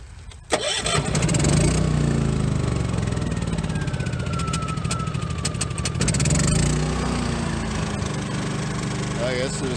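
A small engine cranks and catches, then runs at a steady rough idle that settles slightly lower toward the end, close and loud, with a person talking over it.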